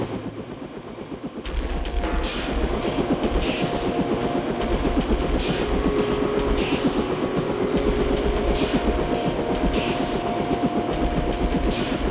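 Steady helicopter rotor drone in the video game Deus Ex Nihilum mod, a low continuous engine and blade rumble rising after a brief quieter start and holding loud throughout.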